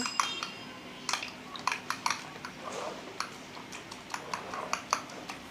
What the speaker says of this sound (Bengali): দিয়ে চামচ দিয়ে আমি এগুলা এখন মিশিয়ে নেব। ডিমটা ভালো করে ফেটে নেব।